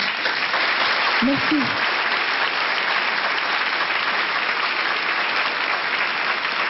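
A television studio audience gives steady, dense applause for a 14-year-old girl singer, loud and continuous throughout, with a brief voice speaking over it.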